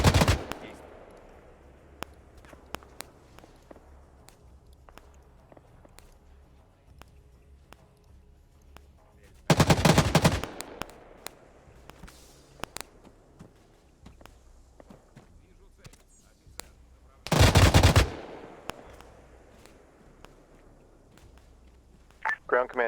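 Gunfire in the military shooter game Arma 3, heard as two loud, sustained bursts roughly eight seconds apart, with scattered sharp distant shots and clicks in between over a quiet background.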